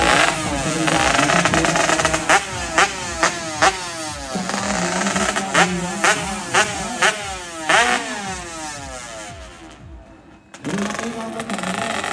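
A Honda Dash motorcycle engine runs and is revved repeatedly, loud and close, with rising and falling whines between sharp throttle blips, a brief drop in level, then strong running again.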